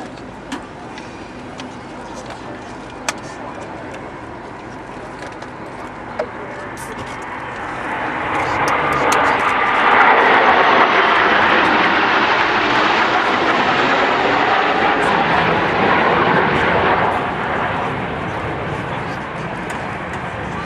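Private jets of a civilian display team fly in formation at an RAF Waddington airshow in 2010, one in a Buccaneer paint scheme. The jet roar swells to a broad, loud rush mid-clip and then eases, with a commentator talking over it.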